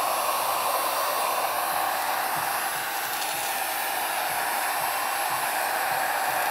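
A heat gun blows steadily while shrink-wrapping a bag of freeze-dried food, giving a continuous, even airy roar with no pauses or talk.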